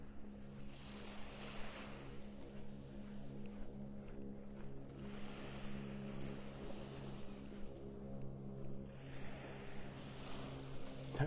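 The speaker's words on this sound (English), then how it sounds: "That boat almost sounds like an airplane out there." A motorboat engine drones steadily out on the Gulf of Mexico at a distance off Delnor-Wiggins beach, North Naples, a low humming tone rising and falling gently over the whole stretch.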